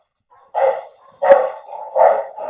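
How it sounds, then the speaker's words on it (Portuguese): Dogs bark inside a house, three sharp, fairly close barks with short pauses between them and a quiet lull before the first. "agora os cachorros daqui de dentro de casa."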